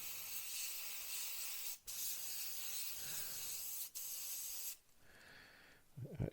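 An airbrush sprays primer through its nozzle while priming an Airfix 1/48 Bristol Blenheim Mk1 model, giving a steady close airy hiss broken by a few short pauses, with a faint clatter at the end.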